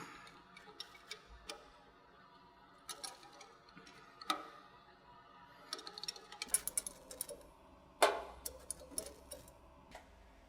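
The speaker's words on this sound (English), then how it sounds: "So we're going to go ahead and tighten this back up and retest." Clicks and metallic ticks as the leveling adjustment is tightened on a doughXpress DX, D-TX or TX series dough press, scattered irregular taps and ratchet-like ticking, fairly faint, with a denser cluster of clanks near the end.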